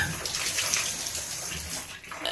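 Water from an old, leaking shower head sprays out across a bathroom floor, a steady broadband hiss of spray and splatter that stays continuous with no talk over it.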